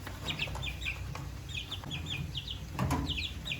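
Chickens and a rooster cluck in a warm boiler-room coop while being given feed, a steady stream of short chirpy clucks, close and fairly loud, over low background noise.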